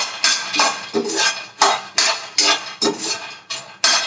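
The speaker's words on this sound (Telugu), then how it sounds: "ఆ పల్లీలు కూడా వేసుకొని ఫ్రై చేసుకోవాలి." Peanuts being dry-fried in a pan while making oats laddu, giving about ten sharp, rhythmic clattering scrapes of nuts against metal, close and fairly loud, with no talking.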